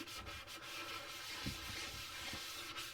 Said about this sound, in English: Now scrub that down a little bit.